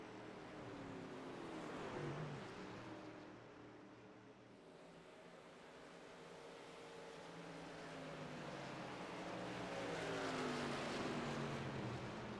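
Simulated truck engines from an online truck-series racing game at Pocono rev together in a steady, loud drone with rising and falling pitch that swells near the end, heard alone without talk.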